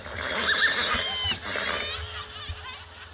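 A horse at an outdoor event neighs loudly and close by, a long, shrill whinny with a quivering, descending pitch, followed by snorting and a few shorter whinnies amid crowd noise.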